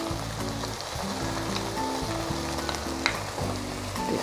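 Chicken and onion stir-frying with oyster sauce in a pan, a steady dense sizzle running throughout at moderate level, with a faint sharp clink near the end.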